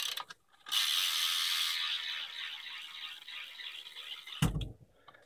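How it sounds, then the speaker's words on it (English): A Mission React rear hub on a 2009 Eastern Shovelhead BMX bike, laced to an Alien Nation black rim, freewheels with a loud, rapid, buzzing ratchet click that runs steadily for several seconds before a thump and stop. "laced to Mission React hub. The hub is awesome. I love the sound of it."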